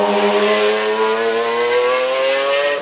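A McLaren F1 supercar engine revs hard in a loud, continuous high-pitched howl. It stays near and sustained for about three seconds, with the pitch climbing slightly.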